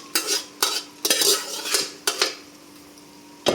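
A spoon stirs pasta with tomato sauce and salsa in a pan, making several quick scraping strokes at a steady rhythm over a faint sizzle, then a pause and one last clank.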